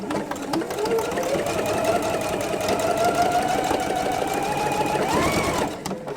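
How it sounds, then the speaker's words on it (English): A sewing machine stitches the final seam of a scrappy hourglass quilt unit, a continuous close whirring run that holds steady for several seconds before slowing near the end. "And now we can sew that final seam."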